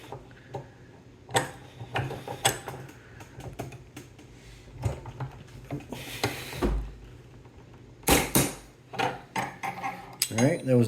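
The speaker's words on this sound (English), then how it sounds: "You're going to break it off, thread it back on, torque wrench reset back up." Metallic clicks and ratcheting taps from a torque wrench tightening and breaking loose an AR-15 barrel nut on a Faxon Gunner upper, with irregular sharp ticks and clunks close by, several louder bursts near the end.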